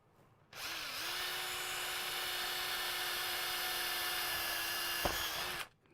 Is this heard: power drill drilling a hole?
yes